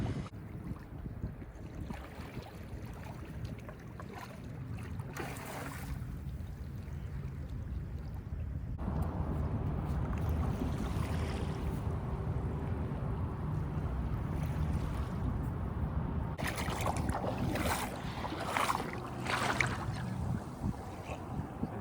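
A heavily modified Carolina Skiff J16 runs across the water on its outboard motor, with a steady hum joined by wind and water rush that grows louder partway through and carries on to the end.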